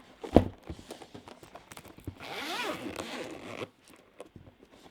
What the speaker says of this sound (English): this just keeps the zippers from opening